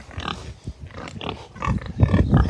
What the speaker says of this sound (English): These are Mangalitsa pigs, Mangalitsa crosses.